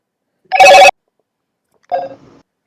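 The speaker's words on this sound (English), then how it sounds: "Somebody has a very loud ringtone." A phone ringtone blares loudly in a short, bright, buzzing burst, then a second, quieter snippet follows after a pause, with silence around both.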